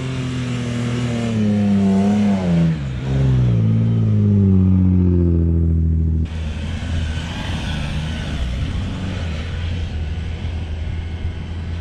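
An overlanding vehicle's engine strains up a sand dune, its revs rising and falling in loud, wavering sweeps before shifting abruptly to a rougher, steady drone of the engine and tyres churning sand.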